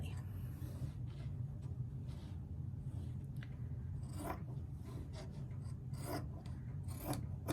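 Scissors cutting diagonally through fabric for a gnome's hat, close and quiet rasping snips in an uneven series over a low steady hum, growing denser toward the end.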